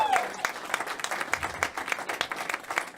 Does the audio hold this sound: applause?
yes